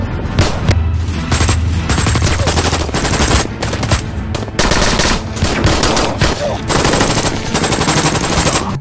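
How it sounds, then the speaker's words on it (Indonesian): Sustained machine-gun and rifle gunfire from a film shootout, loud and continuous with rapid overlapping bursts and no pauses throughout. "yang kemudian baku tembak pun terjadi"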